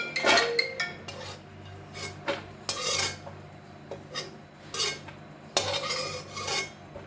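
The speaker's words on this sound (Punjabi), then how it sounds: "ਹੁਣ ਆਪਾਂ ਇਹਨਾਂ ਨੂੰ ਬਾਹਰ ਕੱਢ ਲੈਂਦੇ" Metal spoon scraping and clinking in a pan as roasted dry fruits are lifted out of hot ghee, close-up irregular scrapes and taps with brief pauses between strokes.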